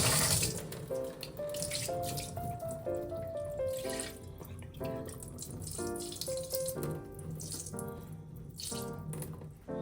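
Meat is rinsed of lemon under running water, a continuous splashing flow close up beneath a bed of tonal background music.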